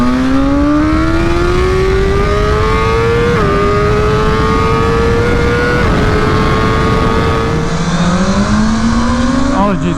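A tuned 2023 BMW M1000R motorcycle with a flashed ECU accelerates hard, its engine screaming loud and close as the pitch climbs steadily through the gears, with brief drops at each shift.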